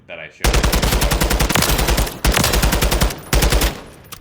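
A long-barrel Mark 16 SCAR Light rifle fires in Call of Duty: Modern Warfare III, loud, close automatic bursts of rapid shots in three sustained strings separated by brief gaps.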